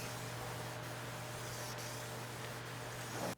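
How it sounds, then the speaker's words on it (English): Black spray paint hisses from an aerosol can onto car windows, a close, even, continuous spray that holds steady and then stops abruptly. "Black spray paint. Paint the windows black."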